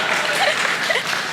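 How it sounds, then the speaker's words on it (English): Wedding guests at a reception clapping, a brief, even burst of applause from a room full of people with no pauses. "You can clap for that too."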